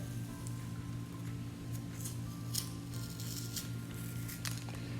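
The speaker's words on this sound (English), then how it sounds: "I just want to kind of cut along the side right here to take this off" Scissors or a blade cutting along the side of a plastic container to free its label, a faint continuous snipping and scraping over a steady low hum, with no one speaking.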